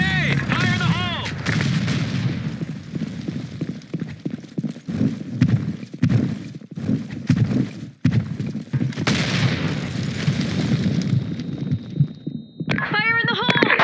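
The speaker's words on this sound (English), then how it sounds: "Grenade! Fire in the hole." In a shooter video game, grenades explode and guns fire in heavy, rapid, close bursts. Voices shout under the din, and an electronic tone sounds near the end.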